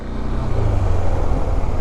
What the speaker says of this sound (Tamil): ஷூர் பைக் தான் நினைக்கிறேன். சவுண்ட் நல்லா கேட்டுச்சு.